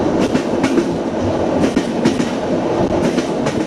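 A train rolls along the rails across rural North Korea with rhythmic clickety-clack and a continuous rumbling roar, steady and fairly loud throughout.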